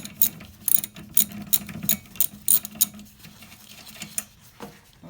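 A wrench loosening the tight nut on a seized windshield wiper arm gives a series of close, sharp ratcheting clicks in uneven bursts, with no talking.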